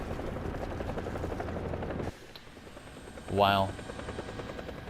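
A helicopter in the War Thunder game drones steadily up close before cutting out, followed by a brief rising whine and a muffled burst, with one short spoken exclamation.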